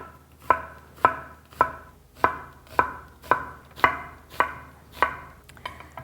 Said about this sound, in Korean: 양파입니다. 가늘게 썰어 볼게요.